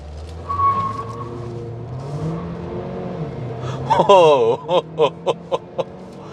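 A 2022 Haval H6 1.5T SUV in sports mode accelerates hard with its tyres spinning. The engine note climbs steadily and loudly up close, then breaks into a run of sharp, pulsing bursts near the end.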